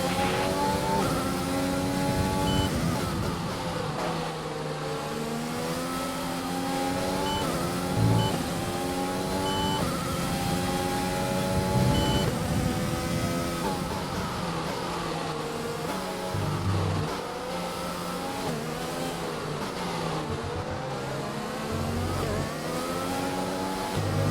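F1 car in the F1 2020 video game at the French Grand Prix drives at speed, a loud sustained engine whine that rises and falls through gear changes and revs, with no talk.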